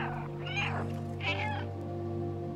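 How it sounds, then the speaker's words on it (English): Cat meowing in the video game Stray, two clear mid-pitched meows about a second apart over a steady low game-music hum, no talking. "I hear another cat."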